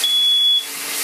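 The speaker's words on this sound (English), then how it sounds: "Try not to set the fire alarm off." A smoke alarm shrills with a steady high electronic tone in a kitchen while armadillo is being cooked, loud and close, cutting off partway through with a hiss continuing under it.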